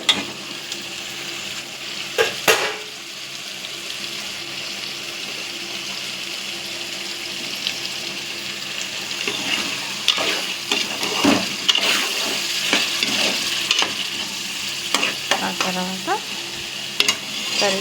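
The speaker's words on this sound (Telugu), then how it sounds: "నూనెలో ఉడకనివ్వాలి." Potato and chicken frying in oil, a steady loud sizzle and bubbling throughout with occasional stirring clatter and scrapes scattered across the pan, no voices.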